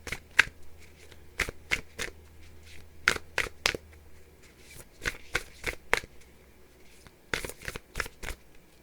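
Nature's Whisper oracle cards shuffled by hand in a quiet room, about fifteen crisp riffling bursts in irregular clusters, close and fairly soft, with no talking.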